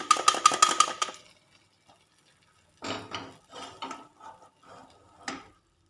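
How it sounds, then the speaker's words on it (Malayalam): Ghee being added to a pot of parippu prathaman, a Kerala lentil pudding, with clattering metal and a ladle stirring: a dense burst of clinks up front, a pause, then several uneven stirring scrapes and knocks. No talking. "ഈ നെയ്യോട് കൂടെ തന്നെ നമ്മുടെ പരിപ്പ് പ്രഥമനിലേക്ക് ചേർത്ത് കൊടുക്കാം കേട്ടോ"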